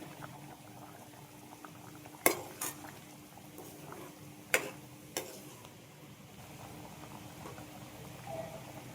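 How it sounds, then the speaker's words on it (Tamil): Okra tamarind curry bubbles quietly in a pot, a soft continuous simmer broken by a few sharp clinks of metal utensils against the pot. "நம்ம இப்போ வெண்டக்காய் புளிக்குழம்பு நம்மளுக்கு கொதிச்சிட்டு இருக்குது"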